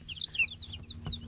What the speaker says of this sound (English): Serranas are little miniature chickens that don't get big at all.